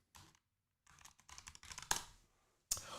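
Computer keyboard typing in short bursts of close clicks and clacks, separated by brief silences, with a couple of sharper louder key strikes toward the end.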